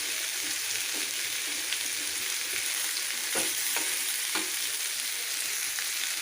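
A big fish fries in a pan at home, its second side cooking in a continuous close sizzle, broken by occasional soft scraping and stirring knocks, with no one speaking.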